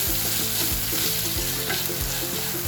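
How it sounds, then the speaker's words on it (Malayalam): Kashmiri chili powder frying in a hot pan for Chicken 65 while being stirred, a dense continuous sizzle with the soft scrape of the spoon repeating through it, close and steady. "മുളക് പൊടി, ഇതൊന്ന് ഇളക്കി ഇതിന് പച്ചമണം മാറുന്നത് നോക്കാം"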